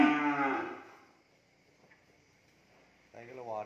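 A cow at a cattle farm moos once, loud and close, then falls quiet before a second moo begins near the end.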